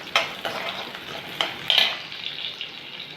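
Ingredients fry in a pan for a no-coconut idli and dosa chutney with soft sizzling, and a utensil scrapes and stirs in several close, irregular strokes.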